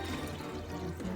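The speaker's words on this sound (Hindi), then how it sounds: "ये अब मैं पानी डालूँ" Water pours into a cooking pot for vegetable pulao, a short, steady, close gushing stream with no talk.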